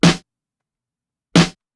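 Two punchy snare hits, a real acoustic snare layered with a bright digital snare sample, sound alone in a neo-soul drum production, each short, tight and loud with a crisp noisy crack, spaced over a second apart.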